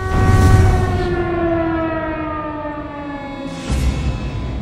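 A loud, sustained siren from the sinking German battleship Graf Spee, wailing steadily and slowly fading before swelling again, heard alone without voices.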